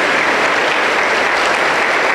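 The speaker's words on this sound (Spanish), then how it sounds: "Aplauso para el Señor Jesús." A church congregation applauds during a worship service, a dense, even roar of many hands clapping together without a break.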